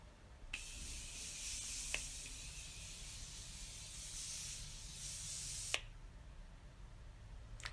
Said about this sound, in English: I'm going to use the Morphe that I used for the highlighter, and you just spray it over your face.